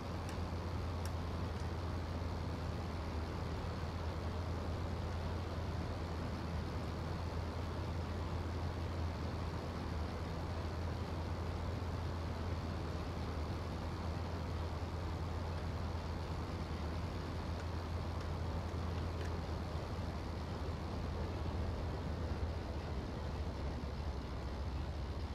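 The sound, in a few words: WWI aircraft engine running, from IL-2 Flying Circus video game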